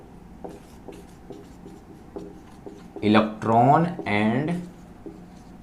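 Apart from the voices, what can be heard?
writing on a board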